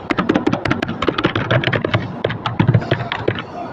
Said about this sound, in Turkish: Enter sesi mükemmel.